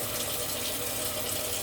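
Cilantro rinsed under a running tap, a steady close gush of water splashing over the leaves with no pauses.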